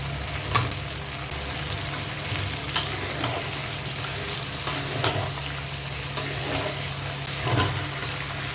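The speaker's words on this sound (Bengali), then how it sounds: "আবার একটু ভালো করে কষে নিতে হবে লাউর সাথে, যাতে সুন্দর করে কষা হয়ে যায়" Bottle gourd stir-fried with tilapia fish in a pan, a steady dense sizzle with intermittent scraping strokes of a spatula, close and continuous throughout.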